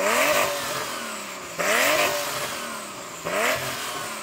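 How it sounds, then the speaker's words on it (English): A Porsche 911 Turbo of the 993 generation revs hard three times, each burst of rising engine roar dropping back before the next, close and loud with no talk. "Now let's have a little bit of 993."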